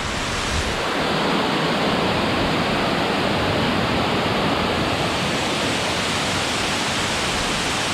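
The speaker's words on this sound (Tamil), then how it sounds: "டேம்லேருந்து இந்த தண்ணிலாம் கொஞ்சம் கொஞ்சமாக வெளியேற்றுறாங்க." Water released from the Kuppanatham dam makes a loud, continuous rushing roar, a dense unbroken torrent that fills the whole stretch with no voices.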